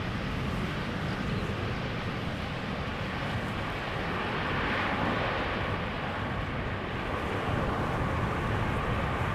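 A KLM jet landing at Amsterdam Schiphol with thrust reversers deployed sends out a continuous, loud, rumbling roar. The noise stays dense and even for the whole stretch, with faint wind buffeting on the microphone.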